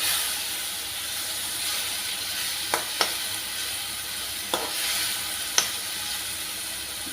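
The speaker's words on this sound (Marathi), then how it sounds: "मी हे गरम पाणी करून घेतलेलं आहे त्याच्यातलं अगदी किंचित फोडणी खाली जळू नये म्हणून किमतीच पाणी मी आत्ता घालून घेतलं" Hot water poured into a sizzling tempering in a pan for chicken mince balls gives a steady steamy hiss, broken by a few sharp clicks of a utensil against the pan, close and without speech.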